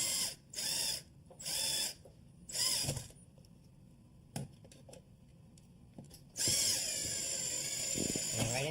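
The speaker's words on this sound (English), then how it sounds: "We'll put the screw right on the end of the tip of the screw gun." A cordless screw gun drives a screw into a wall while crown molding is installed. Three short whirring bursts are followed by a pause with light handling clicks, then a longer, louder run of the motor close by.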